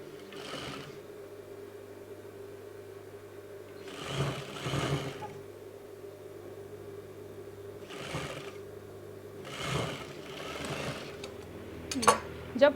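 Sewing machine stitching a velvet jacket (shrug), running in several short bursts of a second or so with quiet gaps between, fairly soft against a steady low hum, with a couple of sharp clicks near the end.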